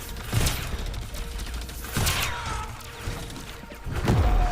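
Shotgun fire in the video game Crackdown 3, with loud, booming blasts at roughly two-second intervals over a busy backdrop of game effects and rumble.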